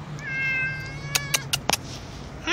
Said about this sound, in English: Little cat out there.